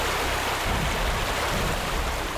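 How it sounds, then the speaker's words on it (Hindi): A waterfall pours steadily, a loud, dense rush of water filling the scene without pause and with no voices. "लो लो, आ गए वाटरफॉल पे।"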